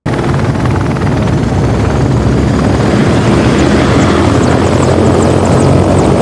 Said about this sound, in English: That ain't no CGI helicopter, they fucking made sure that helicopter got adequate screen time.